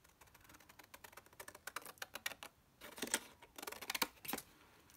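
Scissors snip through paper for a reindeer book craft in quick, crisp bursts, a fast run of close cuts, a short pause, then more clustered snips, with no voices.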